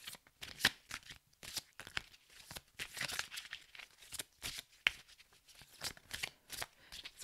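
An oracle deck is shuffled by hand in quick, irregular bursts of riffling and slapping card noise with short pauses between them, close and fairly loud.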